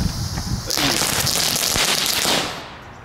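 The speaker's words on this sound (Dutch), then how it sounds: "De eerste knetterrotje." A crackling firecracker from a new Aldi fireworks set goes off up close, a dense burst of rapid snapping pops lasting about two seconds before fading out.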